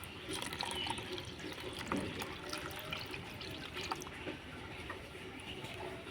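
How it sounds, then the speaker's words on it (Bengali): A cup of milk poured into oil-mixed batter for an eggless bowl cake, a soft steady trickle of liquid running throughout, faint and close. "এবার দিয়ে দেবো এক কাপ দুধ"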